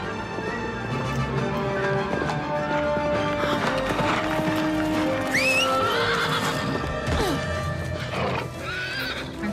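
A horse neighs and whinnies loudly over steady hoofbeats as it runs, with music and other sounds mixed in and talk faintly beneath.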